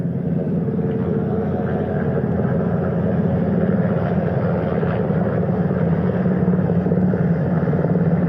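A steady, heavy rotor rumble drones continuously at close range from a helicopter hovering over a ship's flight deck, heard from the bow, with no speech over it.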